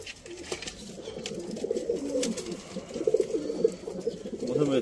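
A pigeon coos in repeated low, throaty rolls close by, with a faint background murmur and occasional soft clicks.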